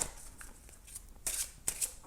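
Oracle cards are shuffled by hand in a few soft, brushing riffles close by, brief and fairly faint in a quiet room.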